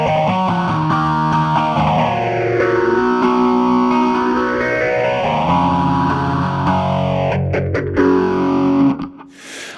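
An electric guitar runs through a TC Electronic Helix Phaser pedal on its smooth setting, giving a loud, distorted, sustained chord with a slow sweeping phase that rises and falls, then cuts off with a few muted strums at the end.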